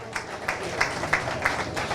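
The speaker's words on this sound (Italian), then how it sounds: "Un applauso ragazzi" Scattered applause from an audience at a cycling race team presentation in Sardinia, individual claps standing out in a loose, uneven rhythm over a low background murmur.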